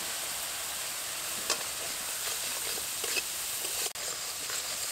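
Poppy seed paste is stirred gently in a pan, giving a soft, steady sizzle with a few faint scrapes and light taps of the spatula, no voices.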